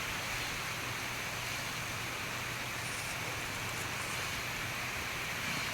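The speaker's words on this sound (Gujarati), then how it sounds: "જો કેવો મસ્ત સરસ વરસાદ વરસી રહ્યો છે" Early monsoon rain falling in a steady, even wash of dense patter, moderately quiet with a faint low hum beneath and no voices.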